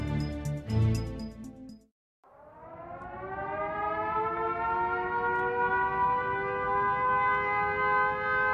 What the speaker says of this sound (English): Sirens sound the alert.